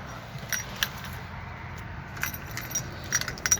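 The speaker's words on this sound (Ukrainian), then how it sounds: "Дивіться, два ключі брелочок такий ще Peugeot." Two Peugeot car keys on a key fob jangle in a few light, brief metallic clinks over a low background hum, with louder taps near the end.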